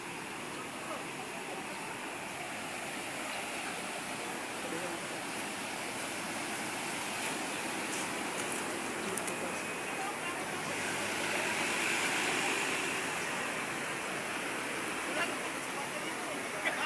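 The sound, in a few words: rushing floodwater after rain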